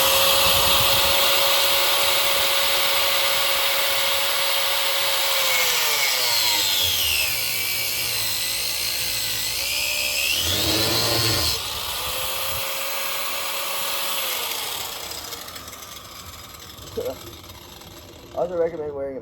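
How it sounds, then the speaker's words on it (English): Angle grinder cutting into a transmission cooler, a steady loud high whine and grinding rasp running almost the whole time, the pitch dipping and rising as the disc loads, then cutting off near the end with a few clunks. "what I'm going to do is take this grinder, make sure this is straight for the most part"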